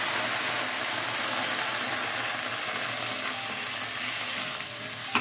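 Melinjo leaves sizzle steadily in a hot pan as coconut milk goes in, a dense, constant frying hiss running close and loud throughout with no talk.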